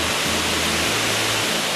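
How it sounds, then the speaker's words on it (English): Mud Creek Falls in Sky Valley, Georgia pours down into a small pool, making a steady, loud, broadband rush of falling water with no break. "A beautiful fall, lots of water coming down through there"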